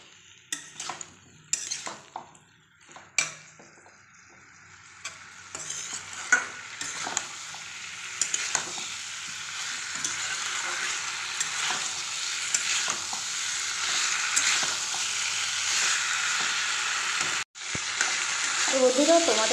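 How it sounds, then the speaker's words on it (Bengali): Soybean chunks and potatoes are stirred in a frying pan, with sharp spatula clanks and scrapes at first, then a building, sustained sizzle broken by one brief pause near the end. "তো এখন আমি এই সোয়াবিন আর আলুগুলো দিয়ে দেবো, দিয়ে একসঙ্গে মিশিয়ে নেব।"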